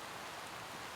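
Steady rain patters on a four-season tent during a car-camping rainstorm, a soft, even hiss with no gaps, faint and close by, with no voices.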